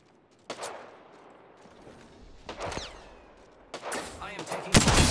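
Bursts of gunfire in the battle royale game Apex Legends come in sharp separate volleys with quiet gaps, growing louder and denser toward the end, with a voice briefly heard between shots.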